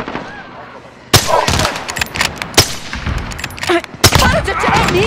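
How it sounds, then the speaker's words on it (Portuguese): Rapid bursts of automatic gunfire from a video game, loud and close, firing in several separate volleys with short gaps between them. "Para de atirar em mim!"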